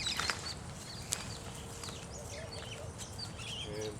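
Suburban birds in Perth call and chirp in short, scattered bursts over a steady background hum, fairly faint and at a distance, with no voices over them.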